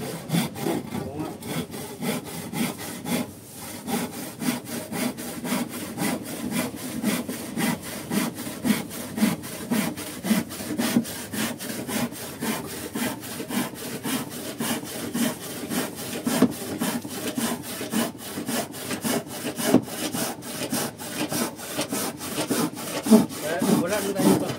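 A hand saw cuts through wood in steady back-and-forth strokes, the rasping rhythm repeating evenly and close up for over twenty seconds with little else around it.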